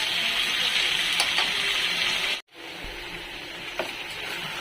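Beef frying with spices in a pan, a steady loud sizzle that runs on, cuts out briefly near the middle, then resumes, with a few faint clinks of utensils.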